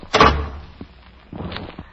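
A door sound effect from a Johnny Dollar radio drama: a sharp, loud thunk or slam near the start, then quieter shuffles and a second softer knock, with no speech over it.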